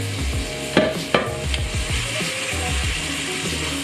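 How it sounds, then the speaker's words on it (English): A steak sizzles steadily in a hot pan, a close, crackling fry broken by a couple of sharp clanks of utensils against the pan. "Listen to that sizzle."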